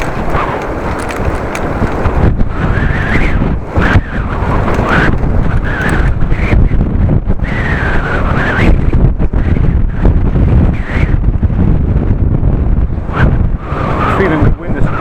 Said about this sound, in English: Feeling the wind is picking up at the moment